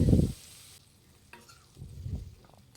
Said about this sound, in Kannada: ಈಗ ಪೂರ್ತಿಯಾಗಿ ಫ್ರೈ ಮಾಡ್ಕೊಳ್ತಾ ಇದ್ದೀನಿ